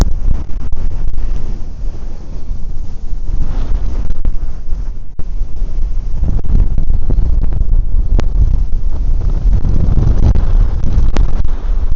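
Strong wind in Arizona roars and buffets straight into the microphone, a loud, continuous rumbling gust noise with surging low-end blasts lasting throughout, no voices heard.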